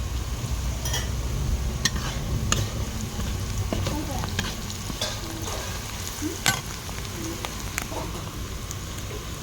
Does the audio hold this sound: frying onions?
yes